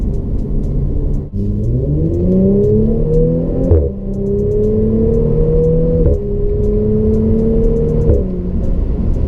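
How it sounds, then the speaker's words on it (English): An Audi B9 S4 with AWE exhaust hums steadily from inside the cabin, rising in pitch through gears, with sharp pops and burbles marking several shifts. "Inside the cabin, you can hear the pops, you can hear the burbles on the downshifts."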